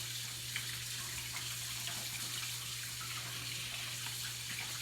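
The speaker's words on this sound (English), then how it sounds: "Do this and wash my hands." Faint, steady hiss of a kitchen tap running while hands are washed, with a low constant hum underneath and no talking.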